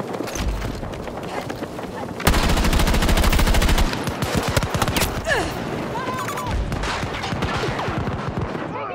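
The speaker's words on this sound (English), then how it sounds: "Taking fire!" Gunfire in the shooter game Battlefield 2042: rapid automatic bursts, a dense sustained stretch of fire in the middle, and scattered distant shots and impacts around it.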